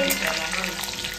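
Mustard seeds, curry leaves and garlic frying in hot oil for a jackfruit bhaji, a dense, loud, close crackling sizzle that holds steady for a moment.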